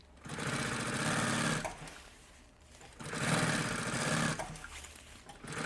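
A sewing machine stitches a puffer backpack's lining right along the edge in two sustained close bursts with a pause between, a steady buzzing whir with no talking.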